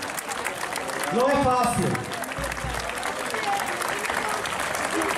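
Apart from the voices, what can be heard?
audience applause for a singer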